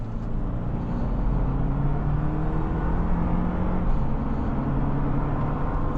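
Toyota Land Cruiser 2024 hybrid four-cylinder engine pulling steadily under acceleration, a continuous low drone with a gently rising tone heard from inside the cabin, alone without talk.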